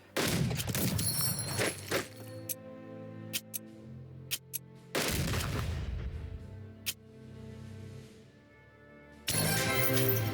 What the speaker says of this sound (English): I'm going to use my airstrike on Polar Forest to try and break through it